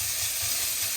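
Al pastor sizzles steadily in a pan inside a teardrop camper trailer kitchen, a close, loud, continuous hiss of frying with no talking.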